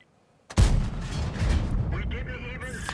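A tank cannon fires in World of Tanks from an SU-100 tier 6 tank destroyer, one sudden heavy boom after a moment of quiet, followed by a rumbling decay and faint game effects.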